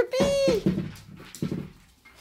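A puppy lets out a drawn-out whimper close by, followed by softer short whines and snuffles.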